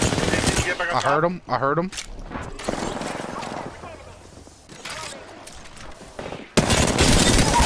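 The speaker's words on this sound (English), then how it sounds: "The enemies are shooting." Rapid bursts of automatic gunfire in a shooter game, loud cracking volleys in clusters near the start and again at the end, with players talking over the shooting.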